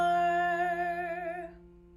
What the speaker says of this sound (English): a perfect fourth sounds like this